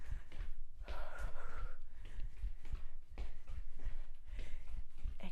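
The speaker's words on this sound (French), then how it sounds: "Respiration bien présente, ça va bien." Heavy, rhythmic breathing from someone exercising in a mixed toning workout class, a series of close, forceful gasps and snorts repeating at a steady pace across the clip with no speech over them.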